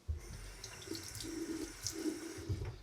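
Cold water runs steadily from a bathroom sink faucet, splashing and trickling into the basin at close range while a face is wetted before a shave, with no talking over it.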